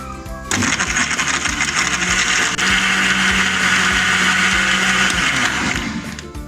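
Electric blender whirring loudly and steadily for about five seconds as it blends a mango milkshake with added ice, starting abruptly and winding down at the end, with rattling chunks audible inside the motor drone.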